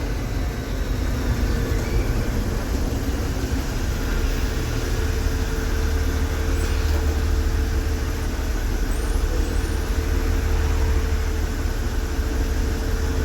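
Steady road traffic heard from inside a moving SETC bus at dusk on the Coimbatore to Bengaluru route, a continuous low rumble of engines and tyres with lorries around, loud and unbroken throughout.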